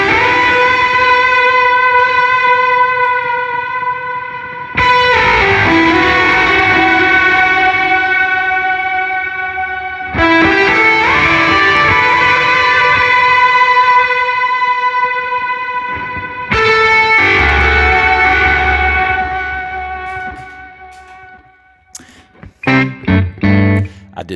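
An electric guitar runs through fuzz and delay pedals, ringing out thick distorted sustained notes in four long swells that fade and repeat, ending in a few choppy, stuttering bursts.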